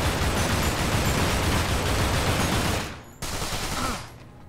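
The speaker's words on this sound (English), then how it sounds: "All I have to do is keep shooting Danny here." Sustained rapid gunfire from the video game Manhunt 2, a dense loud barrage for about three seconds that drops off, then a shorter second burst of shots.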